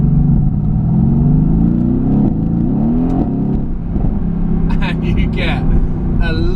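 Car running in comfort mode with its sports exhaust valves open, a loud steady engine drone with shifting pitch as it moves, with bursts of talk layered over the top near the end.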